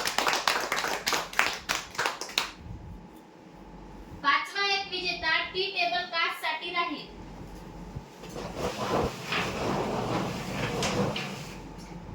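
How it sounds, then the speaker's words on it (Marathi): An audience bursts into loud, dense applause for prize winners at a lottery draw event, the clapping lasting a couple of seconds before a voice takes over over light background murmur. "कॉलनी टीव्ही कॉर्नरचे विजेते जोरदार टाळ्या होते यांच्यासाठी"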